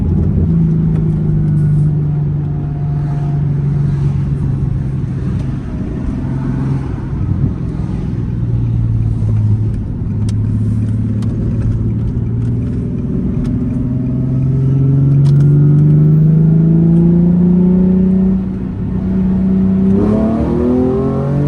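Nissan 370Z Nismo engine pulling hard through the gears in traffic, a loud, continuous rising growl with shifts and repeated climbs in pitch, heard from inside the car with no talk.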